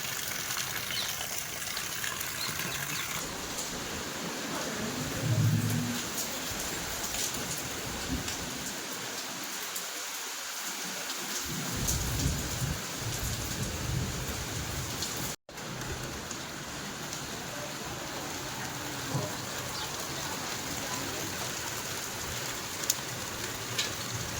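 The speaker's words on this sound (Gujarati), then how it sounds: "અત્યારે ફૂલ વરસાદ ચાલુ હોય" Heavy rain pours steadily for the whole stretch, a dense, even hiss with a brief dropout partway through.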